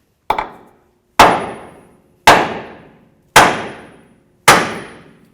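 A hammer strikes the front lower control arm of a Ford Crown Victoria five times at a steady pace, each hit a sharp, close metallic bang that rings briefly and fades into silence, with no talking.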